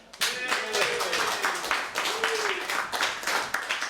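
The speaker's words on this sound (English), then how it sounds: "If you'll just clap me off" A comedy club audience claps a comedian offstage with sustained, lively applause, many hands close and loud, while voices call out over the clapping.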